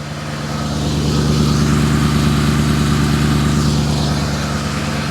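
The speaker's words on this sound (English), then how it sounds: "Engine's running." A Porsche 986 Boxster fitted with a swapped-in V8 idles steadily up close while warming up, a loud, even low rumble with a faint rise early on and no talking.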